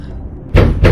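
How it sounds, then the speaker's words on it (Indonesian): A house door takes two loud, heavy thumping knocks close by, one right after the other, after a moment of quiet. "suara ketukan keras terdengar dari arah pintu rumahnya"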